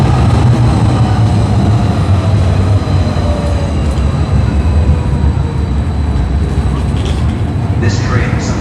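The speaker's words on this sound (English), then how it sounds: "The next Somerset Rhinewood train is arriving." Calgary CTrain light rail train arriving at a downtown City Hall station in heavy rain, a steady low rumble and rolling rail noise filling the platform throughout.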